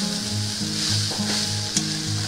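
Poha being stirred and mixed in a hot pan, a close sizzle with repeated scraping strokes and a brief sharper knock near the end, no voices.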